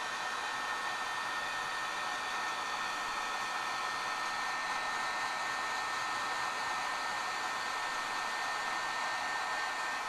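A heat embossing tool melting embossing powder, a steady, continuous fan-driven whoosh like a hair dryer, close and constant throughout with no talk.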